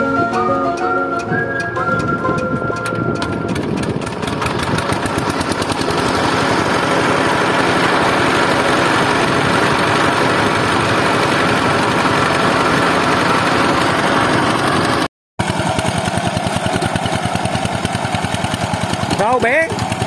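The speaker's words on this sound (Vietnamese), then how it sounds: "máy đang tắt nè, quay lại làm thế nào cho nó nổ lên rồi chạy vòng thôi" A hand-cranked small engine coughs and then runs steadily, its loud, rough, continuous drone filling the space close by while people talk over it.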